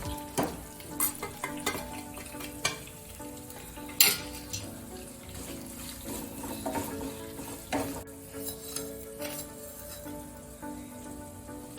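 Sesame seeds, fennel and spices frying and being stirred in a hot pan, a steady sizzle broken by scraping stirs and a few sharp clinks, close and moderately loud with no talking.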